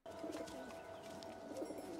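A dove or pigeon coos softly in a horror film scene, low hollow calls over steady background hum and faint ambience, with no voices.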